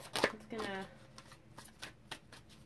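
Tarot cards being shuffled up close, a few short riffling bursts and soft slaps, quiet and brief, with someone talking over them.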